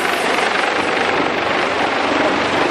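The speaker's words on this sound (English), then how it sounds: "a helicopter will come over you" A rescue helicopter roars loudly and close, hovering overhead a sailing boat, its rotor wash a steady, dense whooshing drone.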